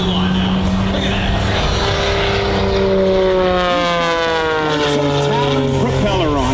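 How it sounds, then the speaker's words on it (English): An Extra 330SC aerobatic plane, German-built and powered by a Lycoming Thunderbolt IO-580 engine, performing at the 2022 Kansas City airshow; its loud, droning engine whine slides downward in pitch as it sweeps past, rough and wavering throughout. "the Lycoming Thunderbolt IO 580 engine, and this extra 330 SC, built in Germany, designed by Walter Extra"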